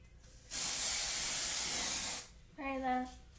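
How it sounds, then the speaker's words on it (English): A can of Dove dry shampoo sprays in one close, loud hissing burst of nearly two seconds, followed by a brief voice. "I'll come over here to my shelf and get my dry shampoo"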